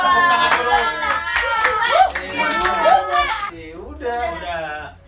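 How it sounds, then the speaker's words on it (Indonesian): Rhythmic hand clapping from a small group during a talk show quiz, several sharp claps in a steady beat under lively overlapping voices and laughter. "Tepuk tangan dulu buat orang yang Bandirma banget deh."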